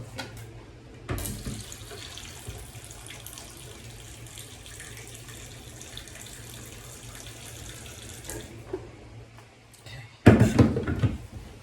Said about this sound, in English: I'm just gonna add a little bit of water, and then we'll mix it in